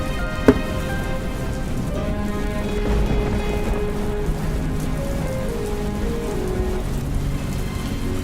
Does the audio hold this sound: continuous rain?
yes